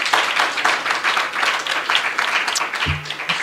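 Audience at a trade union launch in South Africa applauds in a steady, dense round of clapping that fills the space at moderate loudness, with a brief low hum near the end.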